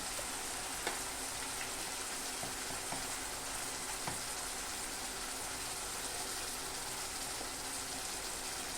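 Spices with turmeric and red chilli powder sautéing for an ivy gourd curry, a dense, even frying hiss held throughout with a few faint clicks of stirring.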